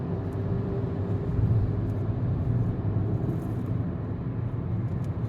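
A Hyundai Aura CNG compact sedan runs in petrol mode and pulls in fourth gear, giving a steady, loud low engine drone and road rumble throughout with no speech.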